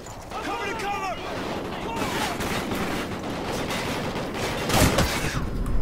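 Rapid bursts of automatic gunfire and explosions crackle through a Call of Duty: Ghosts firefight, dense and continuous with a heavier boom near the end.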